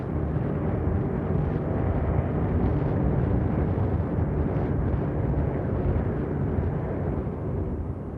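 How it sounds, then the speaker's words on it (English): The Fat Man atomic bomb detonating over Nagasaki in August 1945, a sustained heavy low roar and rumble that holds steady for several seconds, loud and dense with no voices. "Fat Man explodes at 11:02 a.m., August 9th, 1945."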